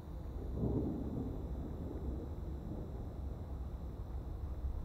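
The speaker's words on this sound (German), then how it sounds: "Gewitter." Thunderstorm in the video game Amanda the Adventurer: a faint low rumble of thunder rolls early, then a steady wash of rain and wind noise continues quietly to the end.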